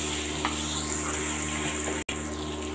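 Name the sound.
beef and onions frying in pot for kabuli pulao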